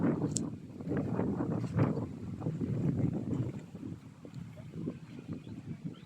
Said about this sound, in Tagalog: Ang lakas ng hangin dito sa bukid.